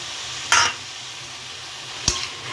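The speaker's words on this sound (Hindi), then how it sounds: "अब इसमें टमाटर डाल रही हूँ मैं" Tomatoes dropped into radish bhurji frying in a pan, with a steady sizzle underneath and two sharp stirring scrapes of a spoon, close and clear with no talking.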